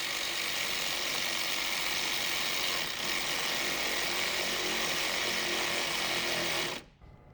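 A power tool, likely a driver, runs steadily for about seven seconds while tightening a hose clamp on an intercooler merge collector, then stops abruptly, close and continuous with no talking.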